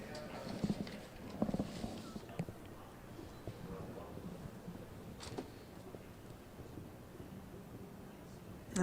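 A show jumper with a huge loping stride gallops around an indoor arena at a World Cup international speed final, its hoofbeats thudding in quick rhythm under steady crowd and arena ambience, with commentary over it.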